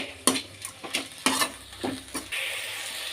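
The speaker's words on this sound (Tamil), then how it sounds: "நல்லா எண்ணெயில் வதக்கணும் வெங்காயம்" Onions stirred and sautéed in oil in a pan: several rhythmic spoon scrapes and soft sizzles, ending in a steadier, brighter sizzling hiss, with no talking.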